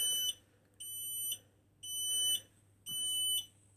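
A Finsécur Celtic-BAAS-Pr8 fire alarm panel sounds its evacuation signal, four loud electronic tone bursts in a steady on-off rhythm over a constant low hum, with no talking.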